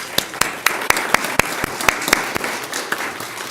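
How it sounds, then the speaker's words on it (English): Applause breaks out for a student at a school district governing board meeting, a steady room-filling patter broken by sharp, distinct claps. The clapping is fairly loud and sustained and is heard on its own, with no talking. "If we can give her a big round of applause."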